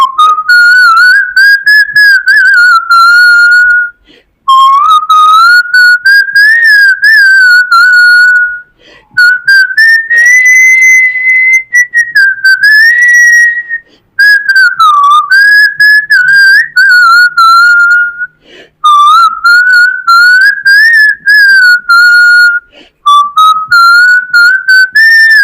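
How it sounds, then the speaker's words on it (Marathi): A person whistles a song in long melodic phrases, clear, loud and close, with short breaks between phrases and no other sound. "मी शिट्टीतून गाणं म्हणून दाखवणार"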